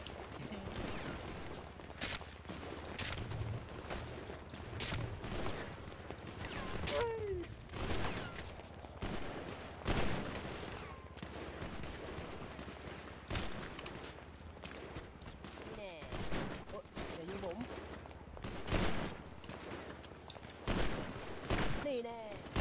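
Gunfire in GTA V roleplay, sharp shots cracking in scattered bursts and quick volleys throughout, fairly quiet and mixed with sounds from the game.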